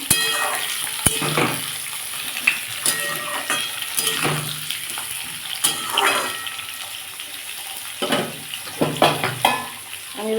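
Potato, onion and tomato fry together in a pan for a Bengali-style prawn broth, giving a steady sizzle broken by repeated scraping and clattering stirs close by.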